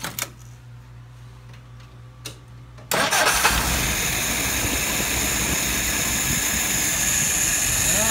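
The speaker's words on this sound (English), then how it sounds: "Gonna go ahead and do that warm restart and stumble test for you." A warm carbureted engine, Dave's 636SA, is restarted after cooling: a few quiet clicks and cranking, then it catches at about three seconds and settles into a loud, steady, continuous running roar close by.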